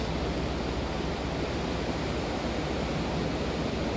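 Ocean waves roll onto the beach at Port Aransas at sunrise, a steady, broad wash of surf noise with no distinct breaks and no voices.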